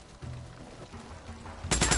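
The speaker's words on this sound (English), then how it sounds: "Ooh, sniper." A sniper rifle shot in the zombie survival game Days Gone rings out as a sudden loud burst near the end, after a quieter stretch of low rumbling game ambience.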